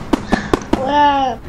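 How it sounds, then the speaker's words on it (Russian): Four quick firework launch pops in a row in Roblox, followed by a rising whistling burst, loud and close. "по традиции мы сейчас запустим салют"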